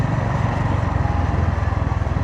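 A Honda GB350S motorcycle being ridden, its engine and not-very-loud exhaust making a steady, close low rumble with a fast pulsing beat and no pauses.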